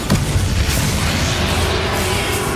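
A Bombarda spell explosion in Hogwarts Legacy, a dense, loud low boom filling the whole moment with rumbling debris and no pause.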